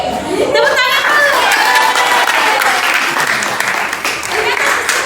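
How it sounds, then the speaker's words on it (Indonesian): Students in a classroom clap together, a loud, dense burst of applause mixed with cheering and chatter throughout, with a voice heard briefly at the start. "Tepuk tangan dulu."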